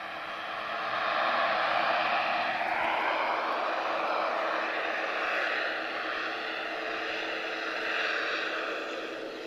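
A Star Air cargo jet at Lisbon Airport roars with a sustained engine drone that swells and shifts in pitch, heard from a distance with a broad rushing tone and no voices.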